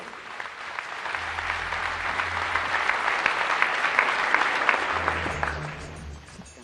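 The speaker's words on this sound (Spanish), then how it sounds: "a quien recibimos con un fuerte aplauso" Warm audience applause welcoming the executive secretary of the Bolivian Workers' Central at an international teachers' gathering, a broad crowd clapping that swells and holds steady, then tapers off near the end, with a low hum underneath.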